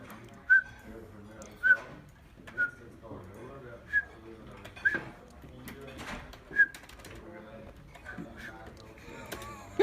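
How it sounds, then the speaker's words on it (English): A person whistles a series of short, sharp notes at a steady, bouncy pace, about eight in all, to control the Chrome dinosaur jumping game, over a busy background of voices and sounds. "we taught a system to recognize when Lasse whistles"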